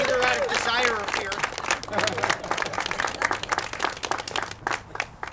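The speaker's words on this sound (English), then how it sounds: "how about a nice round of applause for Linda Saland?" An audience breaks into sustained applause, dense clapping from a crowd filling the room for several seconds, with a speaking voice briefly over the start.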